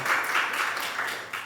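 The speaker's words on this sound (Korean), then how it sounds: "우리 잠깐 자리에서 일어서시면 환영의 박수 하시겠습니다." A church congregation claps together to welcome a first-time visitor during a Sunday worship service, a dense, steady patter of many hands filling the room and tapering slightly toward the end.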